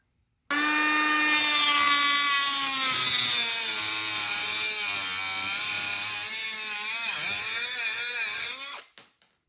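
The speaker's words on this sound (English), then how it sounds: "So we're gonna take a cutoff wheel and just cut straight in the middle of this section roughly." A cutoff wheel cuts through the metal of an RC crawler driveshaft with a loud, close, high-pitched whine. The pitch dips and wavers as the wheel bites, then the sound cuts off sharply after about eight seconds, and nobody speaks.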